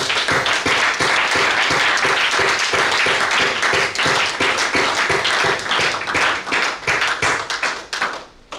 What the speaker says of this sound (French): Acclamez un peu pour Jésus.